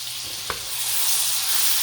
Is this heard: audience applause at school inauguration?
no